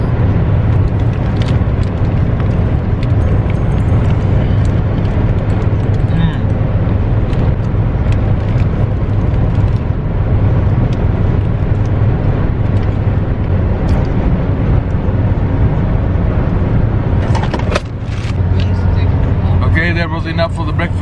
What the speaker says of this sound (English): right now here in the car, and we are still on the way to another city